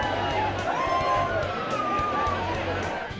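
Crowd of fans at a cinema cheering for Shahrukh Khan, a dense excited roar of voices with shouts and whistles, loud and continuous, with someone talking over it.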